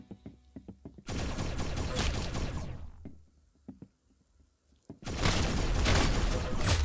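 Bursts of rapid gunfire from the first-person shooter game Arsenal, two long loud volleys separated by a few isolated single shots and a quiet gap.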